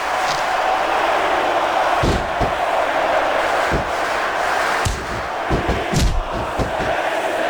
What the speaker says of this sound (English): The crowd is coming alive.